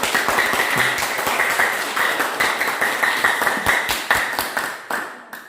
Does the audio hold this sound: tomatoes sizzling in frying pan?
no